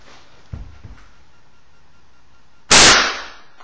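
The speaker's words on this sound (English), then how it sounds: "And there's the Nerf shot." A compressed-air airsoft gun fires a Nerf bullet with a single sharp, loud burst of air that decays over about a second. Two faint, soft knocks come before it in a quiet background.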